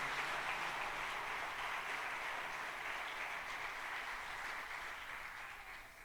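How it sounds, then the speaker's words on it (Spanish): A church congregation claps loudly and steadily at a Spanish-language worship service, a dense continuous wash of applause that tapers slightly toward the end with no voices over it. "Dele fuertes palmas al Señor"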